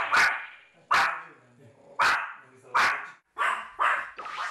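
A very excited dog barks in a home, giving a string of sharp, loud, close barks in quick succession with short gaps, some doubled toward the end.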